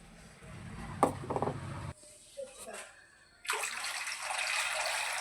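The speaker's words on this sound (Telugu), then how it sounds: "నేనైతే ఇలా ఇంకా వాటర్ పోద్దాం" Water is poured into a cooking pot while making vermicelli upma, a rising steady gush of pouring at the end after brief clatters and a voice talking earlier.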